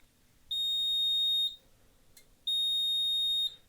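A glitchy smoke detector on a fire alarm system sounds after the system reset, emitting two long steady high-pitched beeps of about a second each, separated by a pause with a faint click.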